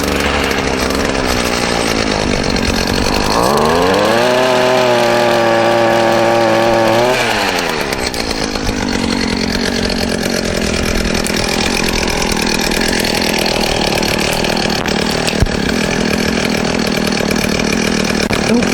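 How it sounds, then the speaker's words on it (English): A STIHL pole pruner cuts tree branches outdoors on a windy day, its small two-stroke engine revving to a steady high whine for a few seconds, then dropping back to a rough idle and continuing to run loud and close. "So let's get cutting."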